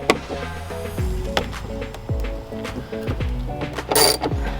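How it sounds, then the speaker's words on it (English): Plastic clips on a Jeep Wrangler JL fender flare pried up with a flathead screwdriver, giving repeated close clicks and snaps with low thuds roughly once a second and a brief scraping burst near the end. "So with the flathead, I'm just going to pry these up."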